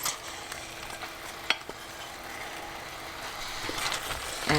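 Minced lamb sizzling in hot oil and spices in a pan for a keema peas curry, a low steady frying hiss with a few sharp clinks and stirring scrapes, louder toward the end.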